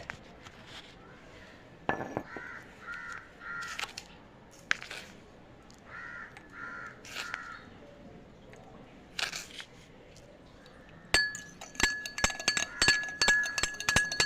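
A spoon clinks repeatedly against a glass of tap water, stirring in salt briskly in quick bursts, with brief pauses between rounds and a faster run of clinks near the end.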